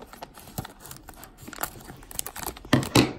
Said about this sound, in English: Let's cut it open.